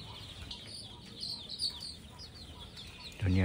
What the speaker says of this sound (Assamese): এইফালে সোণালী মুৰ্গীও আছে